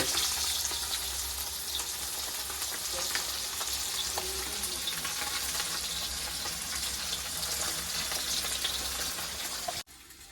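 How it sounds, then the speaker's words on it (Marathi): Wakti fish frying in a pan, a steady close sizzle and crackle of hot oil that runs throughout, then cuts off abruptly near the end. "आता झाले आपले वाकटी फ्राय एकदम बघा कसं झालंय"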